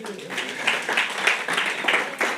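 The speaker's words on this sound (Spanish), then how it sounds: "Un aplauso para nuestros hermanos venezolanos." A church congregation at a sermon gives a short round of applause. The clapping is moderate and uneven, with speech mixed in over it.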